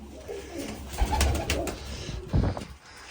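Pigeons coo in a few soft, throaty bursts close by, two low swells over about three seconds with quiet gaps between them.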